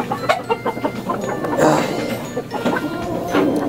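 Chickens cluck and chatter in a chicken coop, with several close, short calls overlapping someone speaking.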